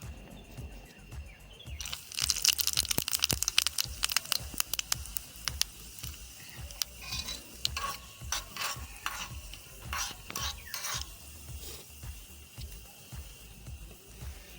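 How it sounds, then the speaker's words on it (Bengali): Cinnamon, shahi jeera and cardamom hit hot oil in a tiny pot in a miniature kitchen and start crackling. A burst of close sizzling spatter is followed by quieter popping and small clicking stirs. "এই তেলেতে এবার দিয়ে দেবো দারুচিনি, শাহি জিরা আর এলাচ।"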